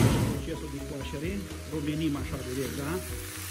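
Onion and carrots sizzle and fry on a Mongolian grill, a steady close hiss under someone talking throughout.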